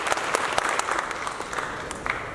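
Audience clapping during an award speech, a brief fairly faint burst of many hands with a few sharper individual claps standing out.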